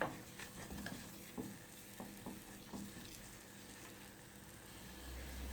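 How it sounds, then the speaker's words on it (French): Flour cooks in a pan for a cheese soufflé, stirred with soft, faint scraping strokes over a gentle, quiet sizzle. "Je cuis un petit peu ma farine avant de rajouter le liquide"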